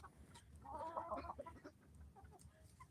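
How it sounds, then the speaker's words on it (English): A rooster makes soft, low clucking coos to his hens as they peck at leftover Thanksgiving turkey and stuffing, a brief murmuring burst close by over quiet background rustling. "The rooster will tell the hens where it's at. You can hear him cooing a little bit."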